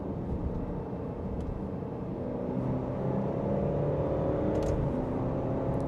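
An SUV engine hums steadily from inside the cabin in manual mode while paddle shifters drop gears, and the engine tone steps up with each quick downshift under a constant road whir.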